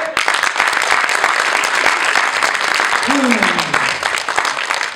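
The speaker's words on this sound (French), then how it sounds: "une bonne d'applaudissements pour les jeunes, s'il vous plaît" Crowd applause for young people at an event, with many sharp claps packed into a loud, continuous wash and a voice briefly heard over it partway through.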